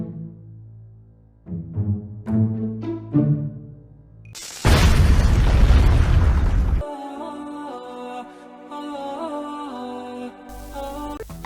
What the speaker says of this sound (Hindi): कराची में खुदकश धमाका हुआ है